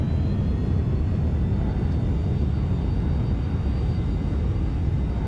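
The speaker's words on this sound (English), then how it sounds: "we are slowing down the airplane." A simulated airliner in X-Plane 11 rolls out on the runway after landing, a steady, dense low rumble with a faint engine whine, constant and unbroken throughout.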